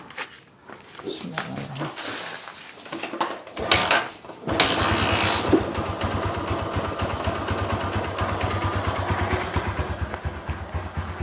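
A motorcycle engine starts after a short burst of cranking and settles into a steady, close, rumbling idle, with a person talking over it at the start.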